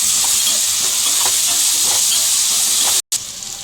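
Ginger garlic paste fries loudly in a pan and is stirred, a dense continuous sizzle with scraping stir strokes, cut off by a brief gap near the end before the sizzle resumes.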